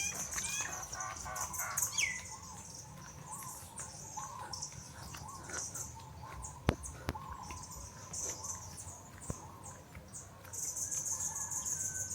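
Birds call outdoors in the Seychelles: scattered chirps and tweets of varied pitch, a rooster-like crow among them, and brief wing flaps and knocks, all fairly faint with no talk.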